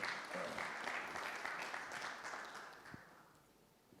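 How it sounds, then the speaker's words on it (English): A large audience applauds as a guest, Ketan Patel, is welcomed on stage at an HP Omen 2017 launch event, a full wash of clapping that slowly tapers off. "give a big round of applause"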